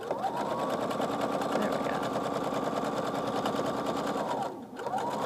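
A sewing machine runs a steady quarter-inch seam across quilt pieces, humming close and even for several seconds before slowing to a stop, while a voice says a few words.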